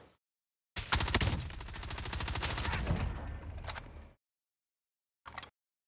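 Video-game gunfire in Warzone: a sustained burst of rapid automatic shots lasting about three seconds, loud and close, followed by silence and a brief final short burst.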